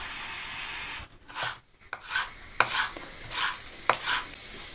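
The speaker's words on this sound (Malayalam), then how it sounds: "ഇനി നമുക്ക് ഈ മല്ലിയിലയും സെലറിയൊക്കെ ഒന്ന് ചെറുതായിട്ട് അരിഞ്ഞ് വെക്കാം." Coriander leaves and celery being chopped with a knife on a board, a series of quiet, crisp strikes at an uneven rhythm with brief pauses between bursts.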